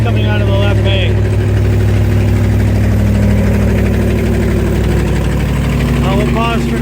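A 1969 Corvette 427 with a four-speed idles steadily just after start-up, a loud, continuous low rumble with an even pulse, while people talk close by over it.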